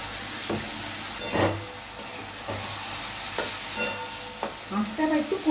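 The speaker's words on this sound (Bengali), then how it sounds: "ভালো করে মশলার সাথে এটা মিশিয়ে নাও, নিয়ে একটু কষিয়ে নাও।" Ground spice paste stirred and fried with chicken in a pan for a homemade chicken curry, with a steady sizzle broken by several louder scraping stirs, close up and without talk.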